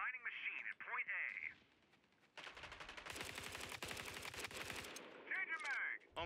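Rapid bursts of automatic gunfire rattle through a shooter video game firefight, a dense volley of shots sounding between stretches of game radio chatter and announcer voices.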